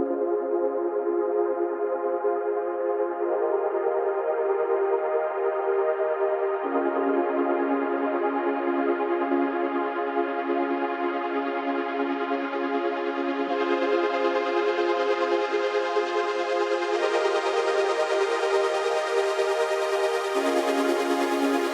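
A sustained synth pad playing slow held chords that shift every few seconds, warm and smooth, brightening gradually, steady volume with no voices.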